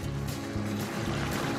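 Bubbling, sloshing water in a pot of boiling pasta with chicken and pumpkin being stirred, a steady churning noise with soft rhythmic swishes.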